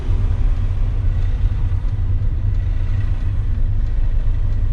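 A UK learner driver's car judders while in gear, giving a continuous low rumbling engine drone with slight uneven shudder, steady and close throughout with no talking.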